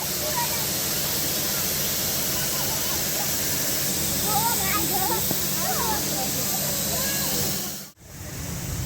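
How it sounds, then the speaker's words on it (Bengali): Heavy artificial rain sprays down at a crowded Eco Park on a hot day, a dense, steady hiss of falling water that fills the scene, with a brief dip near the end. "জোর বৃষ্টি দিয়েছে, কৃত্রিম বৃষ্টি।"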